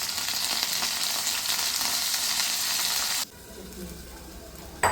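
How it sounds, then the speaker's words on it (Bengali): Okra frying in hot oil with salt and turmeric: loud, close sizzling for about three seconds, then a drop to quieter kitchen sound with a brief clatter at the end. "তো এবার আমি পরিমাণ মতো নুন দিয়ে দেবো আর একটু হলুদের গুঁড়া দিয়ে ভেন্ডিগুলোকে ভালো করে ভেজে তুলে নেবো।"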